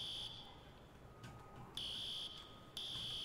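A fire alarm goes off in the EmergeNYC emergency-response game, a steady high electronic tone that swells to louder stretches twice, with no talking over it.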